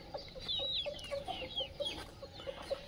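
Faint clucking from a desi hen on an Aseel free-range poultry farm, a series of short, soft clucks in quick rhythm with a few higher chirps mixed in.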